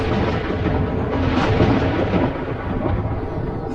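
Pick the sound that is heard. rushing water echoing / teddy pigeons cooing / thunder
thunder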